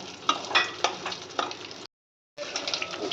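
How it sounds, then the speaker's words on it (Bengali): Whole spices such as cinnamon, bay leaf and cloves stirred in hot oil, a close crackling sizzle broken by sharp scraping spatula strokes, cutting out briefly before the frying resumes. "তারপরে দিয়ে দেবো গোটা গরম মশলা, দারচিনি, তেজপাতা, লবঙ্গ দিয়ে এটা ভালো করে নাড়াচাড়া করতে হবে।"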